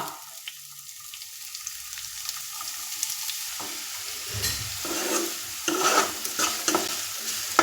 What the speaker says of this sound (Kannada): ಲೈಟಾಗಿ ಗೋಲ್ಡನ್ ಕಲರ್ ಬರೋವರೆಗೂ ಈ ಈರುಳ್ಳಿನ ಫ್ರೈ ಮಾಡ್ಕೋಬೇಕು